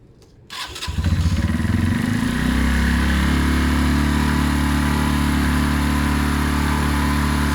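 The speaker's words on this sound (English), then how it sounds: "Let's get this bike started" A Benelli Keeway 125cc motorcycle cranks and fires after a moment of quiet, then settles into a steady, loud, close idle that runs evenly to the end.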